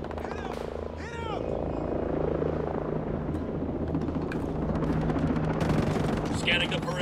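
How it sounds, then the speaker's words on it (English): Helicopter rotors thrum through a nighttime combat mission in the video game Ghost Recon, a continuous loud drone with bursts of gunfire and sharp impacts crackling over it, while voices speak intermittently. "Those are the helicopters we took out."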